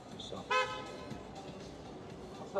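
A short, loud horn toot bursts out once near the start with a steady tonal blare, then a brief second blast at the very end, over a busy background of talk and ambient noise.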